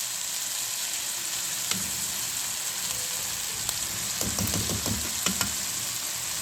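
Capsicum, cabbage and other vegetables sizzle steadily in a hot pan, a constant frying hiss broken by a few clinks and scraping stirs of a spoon.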